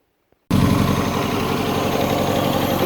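A 1971 carburetted car engine bursts into life after a brief silence and settles into a loud, steady idle with a low, even throb, running on choke close to stalling.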